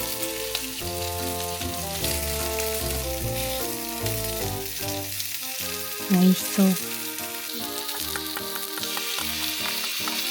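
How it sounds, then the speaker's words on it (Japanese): Meat coated in potato starch fries in sesame oil in a frying pan with a steady loud sizzle, while background music plays and a voice speaks briefly. "ごま油をフライパンに垂らしてお肉を焼いていきます"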